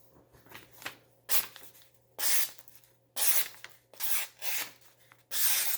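A Buck Mesa knife with a polished 420HC steel edge makes repeated rasping, slicing strokes, about six loud swishes in an uneven rhythm with quiet gaps between them, close up and with no talking.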